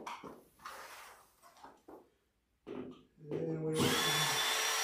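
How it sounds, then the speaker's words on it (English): A power drill removing screws from pool table rails, heard as a loud sustained whir after brief earlier spurts, with someone speaking briefly in between. "you're removing screws"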